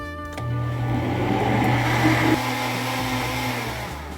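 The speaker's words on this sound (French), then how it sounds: "Je vais fermer mon mixeur et mixer jusqu'à ce que tout soit homogène." A kitchen blender whirs steadily, blending gelatin, crème fraîche, water and sweetened condensed milk into a homemade ice cream base; a loud, continuous motor drone starts abruptly and holds for about four seconds.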